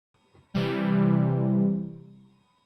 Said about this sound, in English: So a major chord sounds like this.